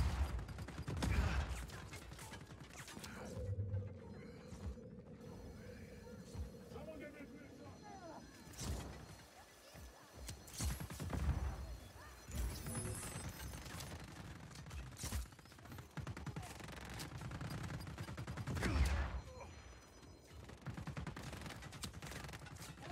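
Enemy gunfire in Just Cause 4 during a firefight at Puerto Malaga, bursts of shots and rattling weapon fire coming from several directions, mixed with game effects and someone talking over the action.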